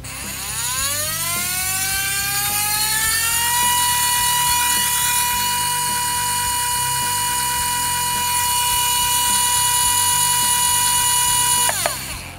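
A Tekin SPEC-R brushless RC motor fitted with ceramic bearings spools up on the bench, its high whine rising and then holding a steady pitch near 29,000 RPM for several seconds before cutting off abruptly.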